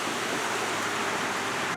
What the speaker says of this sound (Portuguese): eu tenho água fluindo aqui perto de onde estão nascendo esses capins